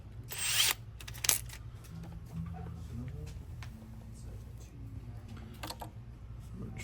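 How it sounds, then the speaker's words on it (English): A power drill boring holes into a Gibson ES-355 guitar body to mount a Bigsby vibrato: two brief whirring bursts near the start, then quiet handling noise and low voices in a workshop. "So we'll go through and drill our 4 holes."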